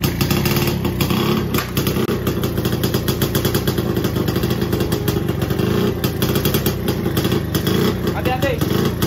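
A classic motorcycle engine, a Puch 175cc or Jawa 250cc, runs steadily and loudly with a rattling, mechanical clatter, continuing throughout without pause.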